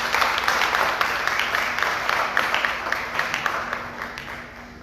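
Modest audience applause at a youth pastoral gathering of the Archdiocese of Port-au-Prince, steady scattered clapping running through at moderate, somewhat distant level.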